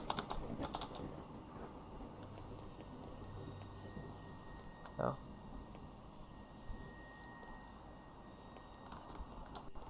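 Rapid clacking on a computer keyboard during a PC horror game, steady and fairly faint, with someone talking over it.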